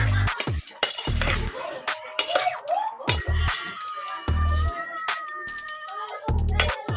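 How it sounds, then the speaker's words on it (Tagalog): A metal spoon stirs sap-sap fish paksiw in a cooking pot, giving close, intermittent clinks and scrapes against the pot in short bursts, with no talking. "Kailangan lang natin haluin."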